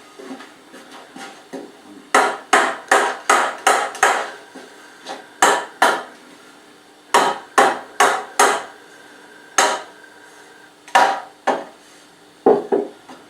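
Sharp hammer blows knock apart a wooden oak chest frame in quick bursts of three to five strikes with short pauses between, loud and close, with no talking.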